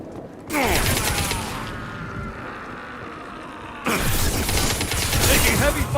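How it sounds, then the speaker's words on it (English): Heavy gunfire in the sci-fi shooter game Mass Effect 2, loud dense bursts of weapon fire with a lull between them, mixed with mechanical clatter and game effects. "Taking heavy fire."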